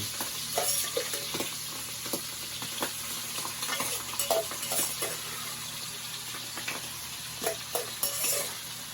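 Isaw (chicken intestines) crisping in a pan with a soft, fairly quiet sizzle, broken by scattered pops and light clinks of stirring.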